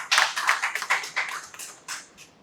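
Sparse clapping from an event audience at a green energy gathering, a handful of close hand claps in quick bursts that thin out and fade toward the end.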